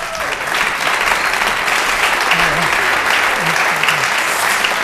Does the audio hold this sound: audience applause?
yes